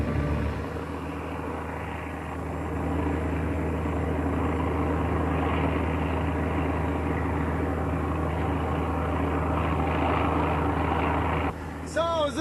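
An aircraft in flight bound for the Amazon drones steadily from inside the cabin, a constant low engine rumble filling the whole stretch, with a brief change near the end.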